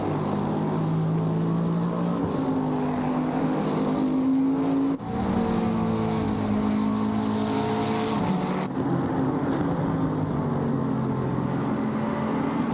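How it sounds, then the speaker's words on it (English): McLaren race cars enter the pit lane at Watkins Glen in a racing video game, engines droning steadily with shifting pitch as they slow and pass through, with no talk. "The two McLarens, 2 of 3 McLarens that is, going into the pit lane."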